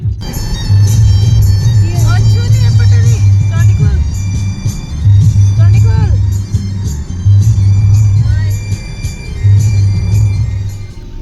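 Traffic jam on a road: idling car and bus engines rumble low and steady, with repeated horn honks and louder engine swells in several bursts, and people talk throughout.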